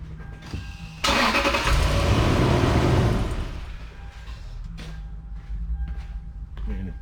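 A Lexus GX470 engine cranks and catches, roaring loudly for a couple of seconds before settling into a quieter idle, with a person speaking briefly before and after.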